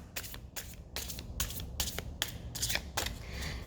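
A deck of cards being shuffled close by, a quick series of riffling, flicking bursts repeating about twice a second.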